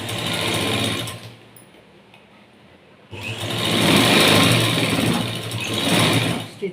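A sewing machine runs steadily, stitching lining cloth onto both sides of the original fabric of a straight-cut blouse, with a dense whirring buzz that drops away for a moment before resuming loudly.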